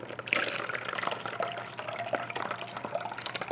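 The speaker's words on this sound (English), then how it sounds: "We're going to add 1 more cup of water into here." Water pours into a bowl of corn cake batter, a close splashing and gurgling stream with a few bright drips, alone without talk.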